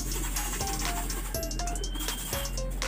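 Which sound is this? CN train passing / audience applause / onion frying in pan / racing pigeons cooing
racing pigeons cooing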